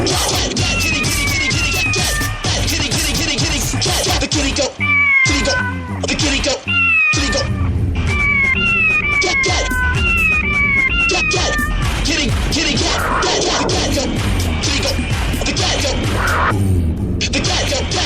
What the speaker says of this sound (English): The kitty